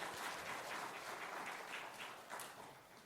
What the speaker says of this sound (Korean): 우리 건강하게 잘 다녀오라고 박수로